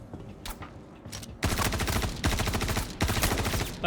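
Gunfire from the video game Star Citizen: sparse shots at first, then loud, dense bursts of rapid automatic fire in several rolling volleys, with no talk.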